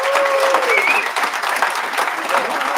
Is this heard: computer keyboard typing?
no